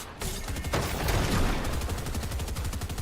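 Dense, continuous bursts of rapid gunfire in the Fortnite video game fill the whole stretch, loud and unbroken with no talk over them.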